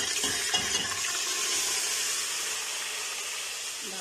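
Marinated mutton dropped into hot oil, a broad steady hiss and sizzle that stays even and fairly loud throughout, with no voices.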